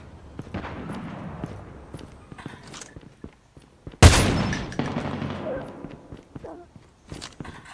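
Gunfire in the mobile shooter game Call of Duty Mobile, a single loud, sharp shot bursting out mid-clip and ringing off, amid scattered softer game clatter and footsteps.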